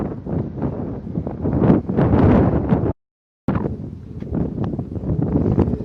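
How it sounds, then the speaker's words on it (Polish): On a windy hilltop, strong gusts buffet the microphone with heavy, uneven low-end rumble that keeps going apart from one brief gap of silence. "Strasznie wiatr wieje."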